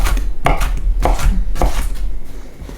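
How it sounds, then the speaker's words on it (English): An onion chopped with a knife on a cutting board, three firm, evenly spaced chops close by over a low background hum, with no talking. "And that's how you cut onions."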